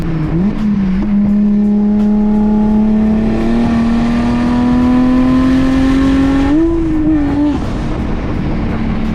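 A turbocharged BMW 335i engine revving loud and close inside the car, a long rising drone that climbs steadily, wavers near the end and then drops off.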